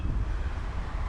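Wind buffeting a microphone during a bicycle ride between Toulon and Brest, a constant loud low rumble and roar filling the whole moment with no break.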